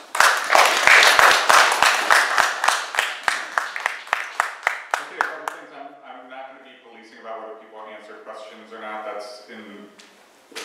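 Polite audience applause after a candidate's statement at a public candidates forum, a fast run of sharp, loud claps that thins out and fades into a voice talking over the tail.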